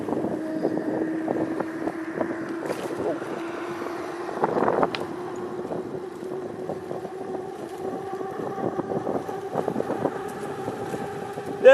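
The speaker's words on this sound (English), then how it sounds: "I can definitely hear a lot of the wind on my ears at the moment." Wind buffets a microphone while cycling outdoors, a steady low rumble and flutter running the whole time with faint clicks and small gusts, no clear speech.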